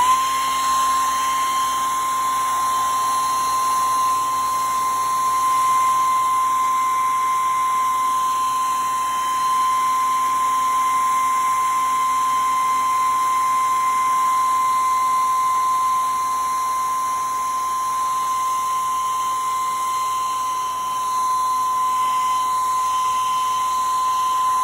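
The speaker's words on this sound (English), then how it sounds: "So I'm gonna blow it dry." Hand-held blow dryer running steadily to dry a freshly painted coffee mug, a loud continuous whirring hum with a high motor whine that holds unbroken throughout, with no talking.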